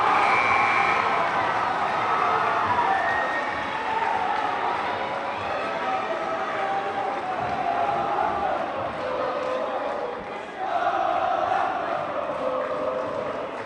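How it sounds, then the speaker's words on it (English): A high school basketball crowd in a gym roars and cheers during a technical foul free throw, a sustained loud wash of voices with chanting, dipping briefly then swelling again. "the crowd goes nuts, as you can hear, as does the bench"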